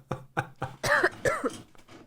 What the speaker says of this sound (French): Il faudra me soigner cette vilaine toux